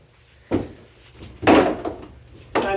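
A door shut three times on a knotted exercise band to anchor it, each a dull thudding bump spaced about a second apart, close by and otherwise quiet.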